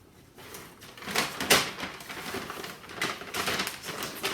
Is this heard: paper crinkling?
yes